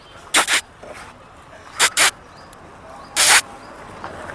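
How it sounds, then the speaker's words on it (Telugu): A stray dog barks in three separate loud bursts, each a quick double bark, with quiet ambient noise in between. "ఇక్కడ కూడా ఒక డాగ్ అయితే ఉంది"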